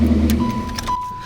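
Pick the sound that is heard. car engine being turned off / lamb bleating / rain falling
car engine being turned off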